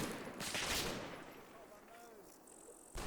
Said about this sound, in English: A light barrage falls on my blue line